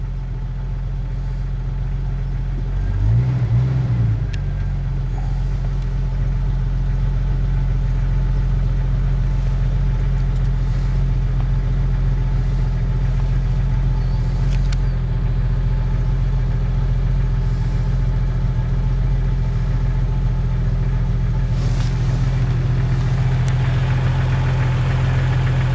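A Jeep TJ engine idling after a cold start, a loud, steady low rumble with a faint knocking texture running unchanged throughout. A brief rise comes early on, and no voices are heard.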